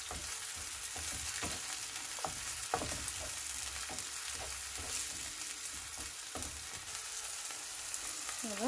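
Bell peppers added to a hot pan and frying, with a continuous soft sizzle broken by repeated utensil scrapes and taps as they are stirred; no voices.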